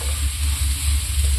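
Onions fry in oil left over from frying fish, giving a steady, close hiss and crackle that runs without a break through a short stretch.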